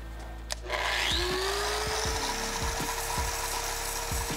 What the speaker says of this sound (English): before we weld it, we're gonna give it a little cleanup with this grinder